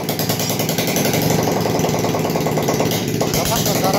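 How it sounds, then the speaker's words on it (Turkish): A motorcycle engine runs loud and raw without a muffler, a harsh, steady, close-up roar with a rapid throbbing rumble throughout. "Arkadaşlar egzoz söktü, kulağa yiyor şu an Okan. Ben bir dedim motorun sesini duyalım."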